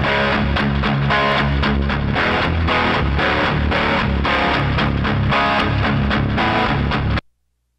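An electric guitar recorded through a BK5 microphone on a small twin amp, driven by a pedal with reverb from the amp, plays a loud, dense, distorted riff steadily for about seven seconds before cutting off abruptly.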